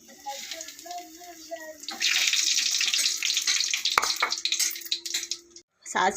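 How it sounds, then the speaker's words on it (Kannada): Mustard seeds crackle and spit in hot oil, a dense, steady sizzle that starts abruptly and runs for several seconds before cutting off briefly. "ಎಲ್ಲ ಸಿಡಿದು ಸಿಡಿತಾ ಇದೆ"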